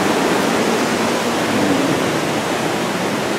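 Waterfall on Yokokawa mountain in Okaya, a steady broad rush of falling water heard continuously from close by with no other sounds.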